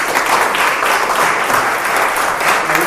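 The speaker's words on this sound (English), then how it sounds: "Let's give her a big round of applause." Steady applause from the audience at a Petaluma Rotary club meeting, dense and sustained throughout, a full room clapping together for a guest from the Polly Klaas Foundation.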